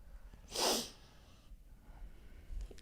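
A single sharp sneeze bursts out close by, followed by quiet background with faint rustling.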